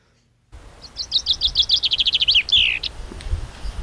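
A single songbird delivers a quick accelerating trill ending in a flourish, close and clear against a quiet background: a chaffinch's song.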